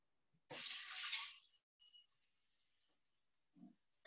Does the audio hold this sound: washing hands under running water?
yes